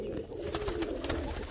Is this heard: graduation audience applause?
no